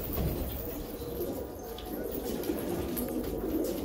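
Pigeons coo in soft, repeated low calls close by, over a rough outdoor background with light movement noise.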